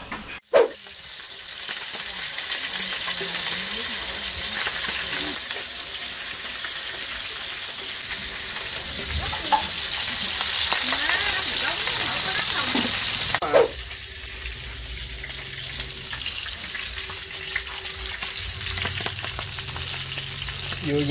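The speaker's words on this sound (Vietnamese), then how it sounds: "Cò chiên nước mắm đúng không?" Stork pieces fry in fish sauce in a pan, a loud, continuous sizzle with crackling spatters and occasional stirring scrapes, close up and steady for the whole stretch.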